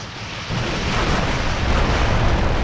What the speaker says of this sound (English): when it explodes, it pushes blocks around. So you see, like, it creates little explosions